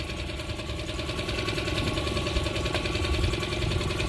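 A Tohatsu outboard boat motor runs at a steady idle close by, a continuous buzzing drone with a rapid, slightly knocking pulse and no speech over it.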